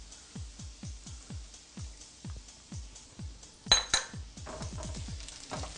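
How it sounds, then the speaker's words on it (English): A utensil stirs chipotle peppers into potatoes in a pan, making a steady run of about fifteen rhythmic clinks and scrapes against the metal, close and fairly quiet. "And stir it all around."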